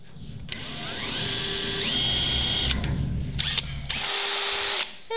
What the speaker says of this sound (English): So we'll try a smaller drill first.